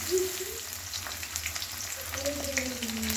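Tomato added to a hot pan for a Bengali egg curry sizzles steadily in hot oil, a soft continuous frying hiss with a few faint stirring sounds.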